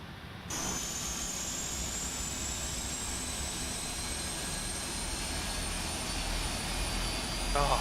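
Jet engines 1 and 4 of a UPS Boeing 747 in a flight simulator spool up, giving a steady broadband roar with a slowly rising whine that holds at a moderate level throughout.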